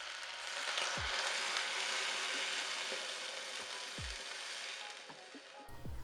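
Duck skin searing in a hot pan with a continuous, even sizzle, close and fairly loud, broken by a few brief low knocks of the pan being handled.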